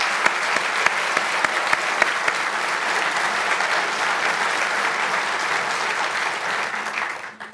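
Loud, sustained applause from a large crowd at a Youngstown State University scholar-athlete banquet fills the space, holding steady before tapering off at the end.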